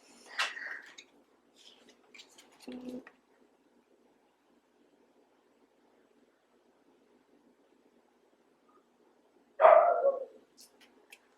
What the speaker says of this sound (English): Those are my dogs barking,